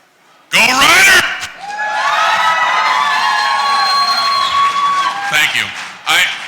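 A live audience at a CFL quarterback panel erupts in loud cheering and whoops that swell for several seconds, fade, then burst briefly again near the end.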